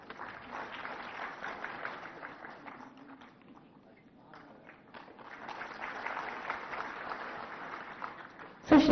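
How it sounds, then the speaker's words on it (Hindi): An audience at a ceremony for newly selected staff nurses claps in a moderate, fairly distant wash that dips to a lull midway, then swells again before a sharp loud burst at the end. "स्टाफ नर्स के पद पर आप सभी जोरदार तालियां मंच तक पहुंचाएं।"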